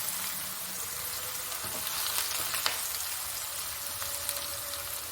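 Green chillies, garlic and small shallots frying in hot coconut oil, a steady hissing sizzle with occasional pops and light crackles, fairly quiet and close, without speech.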